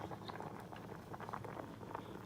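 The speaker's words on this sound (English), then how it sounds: "If your pasta starts to boil up" Pasta boiling hard in a pot on the stove, bubbles rising in layers, gives a steady, close bubbling churn that stays even throughout with no talk over it.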